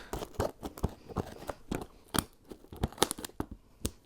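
Scissors snip repeatedly into the plastic packaging of Road Warriors Major Bendies rubber wrestling figures, a quick irregular series of close, sharp cuts with crinkling plastic and no talking.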